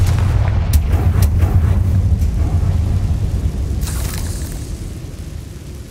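The Confringo blasting spell in Hogwarts Legacy lets off a loud, close explosive boom with heavy low rumble, sharp crackling hits early on and a long rolling decay, with no voices.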